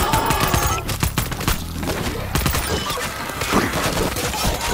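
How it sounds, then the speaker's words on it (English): Dense, continuous gunfire from World War Z in challenge mode, with overlapping automatic bursts and shots filling the whole stretch, loud and close, with no clear talk over it. "I shoot the leg."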